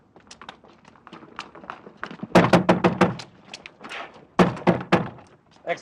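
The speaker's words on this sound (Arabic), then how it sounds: "اكسر الباب" A door being forced open in an Egyptian film, heavy repeated thuds and slams in irregular bursts, loud and close, with a few muffled impacts between the harder blows.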